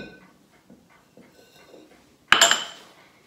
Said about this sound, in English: I'm just going to take the bowl off